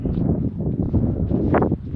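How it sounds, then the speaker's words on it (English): Strong wind blows outdoors in the hills, buffeting the microphone with a steady, loud low roar and gusty surges throughout, with no voices. "It's windy as hell down here."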